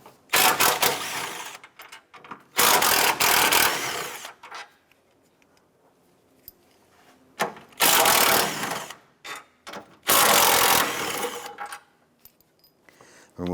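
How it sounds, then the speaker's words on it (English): A socket tool working the engine mount bolts on a 2006-2013 Chevrolet Impala, with several loud bursts of whirring rattle separated by quiet gaps and small clicks, close up. "Using a 16mm socket, go ahead and remove these 2 bolts here and these 2 for the mount beside it."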